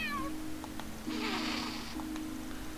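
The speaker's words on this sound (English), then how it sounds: "See that cat every now and then. Guess this is his turf." A cat meows in the Trails Through Daybreak video game, one drawn-out, wavering meow over a steady background music tone.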